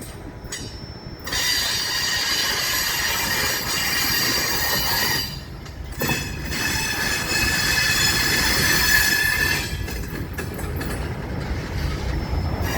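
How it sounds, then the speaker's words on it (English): An FEC train backs through the Bridge Street crossing in St. Augustine, Florida, onto the main line, its wheels squealing loudly and steadily over rumbling rail noise, with brief dips between cars. "Here comes the train, backing back onto the main line."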